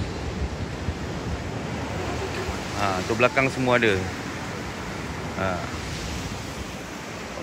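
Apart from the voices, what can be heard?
sea waves at the seaside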